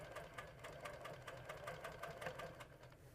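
A sewing machine quilts a fabric block guided by a ruler, its needle running in a steady rapid mechanical rhythm, close and moderately loud with no talk.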